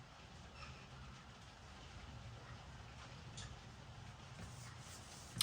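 Steady rain falls outdoors as a soft, continuous hiss with faint scattered patters, fairly quiet and even throughout, with no voices.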